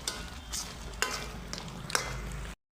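Spinach paste with ginger-garlic sautés for palak paneer, with a soft, faint sizzle broken by a few distinct stirring scrapes in a pan before it cuts off.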